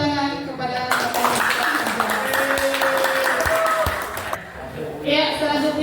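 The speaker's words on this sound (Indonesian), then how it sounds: "berikan tepuk tangan kepada Bapak" A classroom audience claps for their teacher, a steady burst of applause lasting several seconds, with voices talking over it at the start and end.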